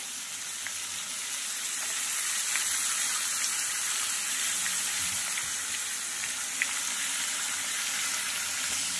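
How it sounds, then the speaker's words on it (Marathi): Onion, tomato and finely chopped green chili sizzle and fry steadily in a hot pan for Vidarbha-style ukalpendy, a continuous close crackling hiss with no talk. "तर इथे सर्वप्रथम आपण कांदा घालणार आहोत आणि टोमॅटो आणि सोबतच बारीक चिरलेली हिरवी मिरची आणि याला छानपैकी असं फ्राय करून घ्यायचं आहे आपल्याला"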